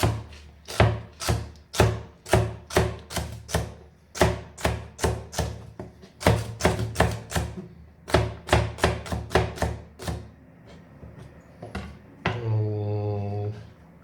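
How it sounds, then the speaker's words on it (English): Vegetables being chopped on a cutting board, a long run of sharp, close, rhythmic knife strokes in quick bursts with brief pauses, ending in a short stretch of other kitchen noise. "And then just choppy chop."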